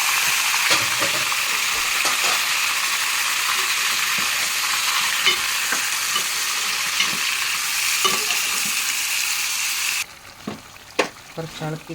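Spices such as cardamom being stirred and fried in a pan for a Kerala-style royal chicken gravy: a steady, loud sizzle with scraping stir strokes throughout, dropping sharply near the end to a few softer clinks and stirs.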